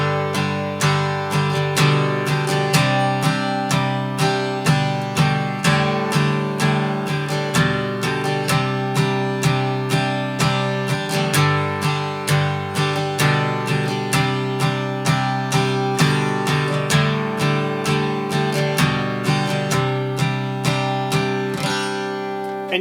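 Acoustic guitar playing the intro melody of the hymn "Jesus Paid It All", single melody notes mixed with quick down and up strums in a steady rhythm; full, close and moderately loud, with no voices.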